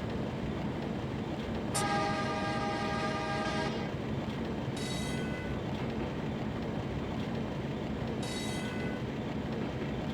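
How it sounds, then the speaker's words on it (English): A Sacramento Northern SN Class 1003 electric locomotive in a train simulator game sounds its horn in a long two-second blast, then two shorter blasts, over a steady rolling rumble of wheels on track. "That's your horn and your bell."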